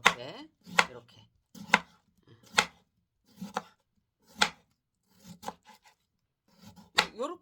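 A knife slices dongchimi radish thinly: about nine crisp, close cuts come one at a time at an uneven, unhurried pace, with short quiet gaps between them.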